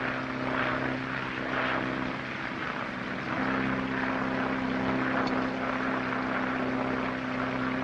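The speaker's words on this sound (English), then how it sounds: "Using an awful lot of gas, Dick. Getting kind of low. Maybe we better throttle back a little." Steady, loud drone of a propeller airplane's engine in flight, a continuous hum with a clear tone that shifts slightly partway through as if the throttle changes, with no voices over it.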